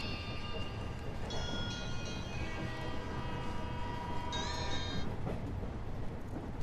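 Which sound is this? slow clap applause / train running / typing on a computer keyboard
train running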